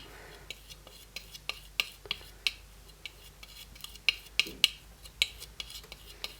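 Foundation makeup shades being mixed together, a stiff creamy product worked by hand, giving a run of soft, sharp clicks and taps in an uneven rhythm over a quiet room.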